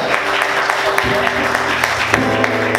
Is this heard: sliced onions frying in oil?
no